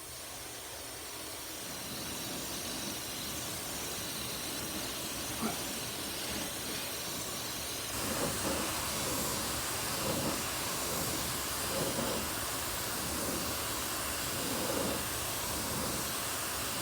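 A spray gun lays down a light coat of orange paint with a steady, soft airy hiss throughout. The hiss swells a little in short bursts during the second half.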